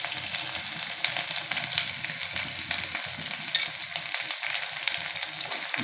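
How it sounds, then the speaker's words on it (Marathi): Cumin, mustard seeds, curry leaves and chili crackle and sizzle in hot oil, a steady close-up frying hiss with scattered pops and no voices. "जिरे घ्यायचे आहेत, मोहरी घ्यायची, याची फोडणी द्यायची आहे आपल्याला."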